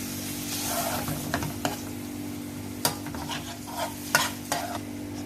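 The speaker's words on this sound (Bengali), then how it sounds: "এখন আমি এগুলাকে ভালো করে মিশিয়ে নেব" Penne pasta stirred with ragu and double cream in a pan, with a few distinct spoon scrapes and knocks spaced irregularly over a low steady hum and faint sizzle, close and fairly quiet.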